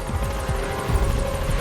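A helicopter touches down in the video game Metal Gear Solid V: The Phantom Pain, its rotor giving a loud, close, continuous throbbing chop over a low engine drone.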